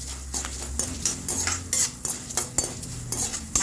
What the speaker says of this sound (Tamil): மிளகு, தனியா இது கொஞ்சம் வறுபடட்டும்.